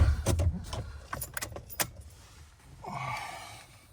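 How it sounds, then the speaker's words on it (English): A car ignition key is turned on: keys jangle in a quick cluster of close, sharp clinks, then a soft electrical hum rises as the ignition comes on. "If I turn the ignition on"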